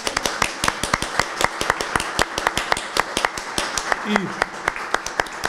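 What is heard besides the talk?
audience applause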